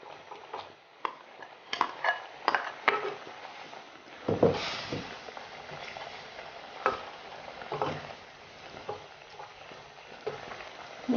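Tinned salmon pieces fry in a pan for a Sri Lankan milk curry, a soft sizzle under scattered scraping and clicking stirs from a spoon, fairly quiet and close, with no talking.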